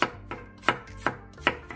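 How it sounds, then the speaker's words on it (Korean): A kitchen knife slicing garlic cloves into flat pieces on a cutting board: five or six crisp, evenly spaced chops, close and distinct, with no voices. "마늘 12알을 편 썰어주세요."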